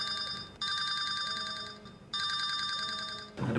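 A telephone rings in repeated electronic bursts with short gaps between them, sounding somewhat muffled and moderately quiet, and a brief rustle comes at the end.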